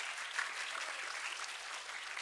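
Audience applause for dance performers at a school event, a soft, even wash of many hands clapping, heard from some distance.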